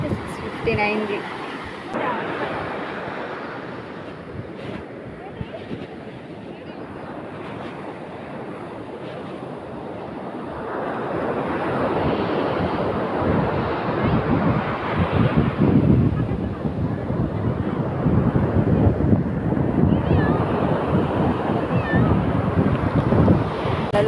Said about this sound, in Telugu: ఇవాళ అలలు చాలా స్పీడ్గా వస్తున్నాయి